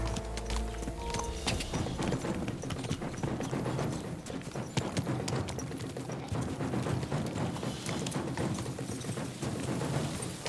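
Horse hooves pound steadily through Kingdom Come Deliverance 2, a continuous rapid clip-clop of galloping with no talk, set against a busy, noisy game soundscape.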